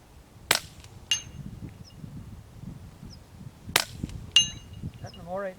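A Ruger 10/22 rimfire rifle at hillside target practice with Nitro HV ammunition fires a few sharp, cracking shots at irregular intervals, with faint metallic pings and low background rumble between them.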